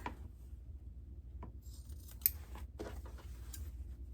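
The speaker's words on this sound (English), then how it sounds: "Now we just want to clip our corners." Scissors snipping the seam corners of a sewn fabric apron, a few faint, crisp metallic clips spaced apart over a quiet background.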